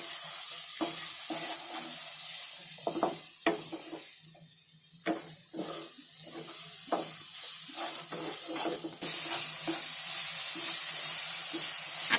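Chili paste being stirred and cooked in a pan for Schezwan chutney, close sizzling and hissing broken by scraping spoon strokes, with the sizzle swelling louder near the end, and no voices.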